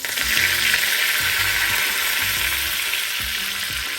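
Curry leaves for a tempering fry in hot oil on a gas stove for paruppu adai, a loud, dense, continuous crackling sizzle close by, with faint low clatter from the pan underneath.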